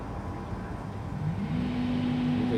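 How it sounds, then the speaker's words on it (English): An LNER InterCity 225 Mark 4 electric train pulls out of Stevenage as the power car's cooling system spins up, a low rumbling whir with a rising hum growing louder. "You can hear the cooling system spinning up in the power car."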